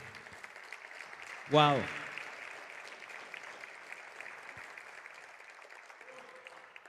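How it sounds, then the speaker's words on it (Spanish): Steady applause from a church congregation fills the background, moderately loud and even, while a voice briefly exclaims over it near the start. "Un aplauso al Señor."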